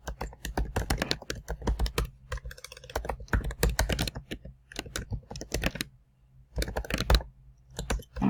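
Quick bursts of typing on a computer keyboard while naming a new desktop folder, crisp close-up key clicks in uneven clusters separated by short pauses.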